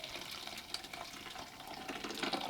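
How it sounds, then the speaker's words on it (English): Liquid pours steadily into a French press at a campsite or van, a soft continuous trickle heard close but quiet, with no speech. "this is a French press. So we'll just do a nice little pour here."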